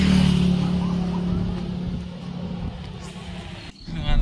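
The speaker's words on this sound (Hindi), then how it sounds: "गाड़ी को अगर रेस नहीं दीजिएगा तो ये हाल होगा, थोड़ा सा रेस देना भी बहुत ज़रूरी है, थोड़ा रेस देना ही पड़ेगा।" A car engine drones steadily on a highway during a road trip, a low continuous rumble with slight swells in power and no voices.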